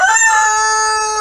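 A rooster crows close to a back porch, one loud, sustained, strongly pitched call with no talk over it.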